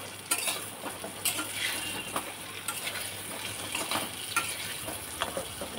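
Pea lentil fritters deep-frying in oil, a constant bubbling sizzle broken by occasional sharp clicks of a utensil against the pan, close and unaccompanied by talk.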